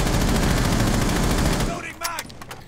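Rapid pistol shots ring out in Rainbow Six Siege, a fast string of loud cracks for under two seconds that stops abruptly, followed by fainter clatter and scattered sounds.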